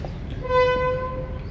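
A train on the heritage line between Holt and Sheringham gives one short, loud horn blast over a steady background rumble.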